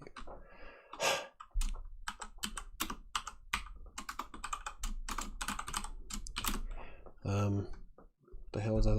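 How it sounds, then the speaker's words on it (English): Rapid clicking on a computer keyboard goes on nearly continuously, close and fairly quiet, while a person talks and sighs over the typing. "because I can type"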